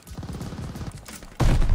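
Rapid automatic fire from an M1928 submachine gun in Call of Duty: Vanguard, a dense run of close shots followed by a louder, heavier burst near the end.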